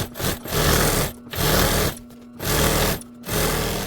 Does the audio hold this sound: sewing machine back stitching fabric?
yes